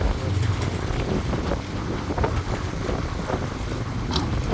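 Strong gusty wind, with gusts up to 45, roars across the microphone at a lake where bass fishing boats are coming in, a loud, constant rumble with no talking over it.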